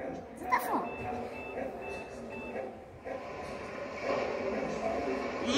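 A reversing garbage truck's intermittent high electronic beeping repeats steadily over rumbling street noise, with a voice audible in the background.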